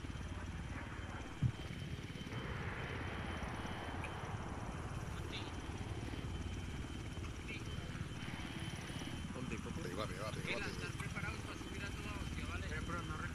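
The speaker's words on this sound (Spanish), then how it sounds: "Hostia, ya es hora que venga un helicóptero en condiciones, macho" A helicopter arrives during a desert military mission in a video game, its steady rotor drone running throughout under a Spanish-speaking voice.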